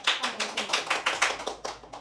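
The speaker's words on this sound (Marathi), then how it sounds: "तर ग्रुप डीसाठी या ठिकाणी जोरात टाळ्या झाल्या" Loud applause from a school quiz audience for the winning team, rapid clapping in about nine rhythmic swells of roughly a quarter second each, close and dense throughout.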